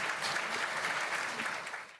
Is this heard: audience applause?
yes